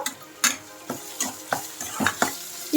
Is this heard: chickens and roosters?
no